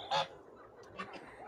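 A goose, the bold flock leader, lets out one loud, close honk at the start, followed by a few softer, fainter calls.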